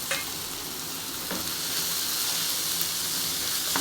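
Onion and fenugreek leaves frying in a pan for Konkani-style methi bhaji, a continuous soft, hissing sizzle with a few sharp stirring clicks, fairly quiet and without speech.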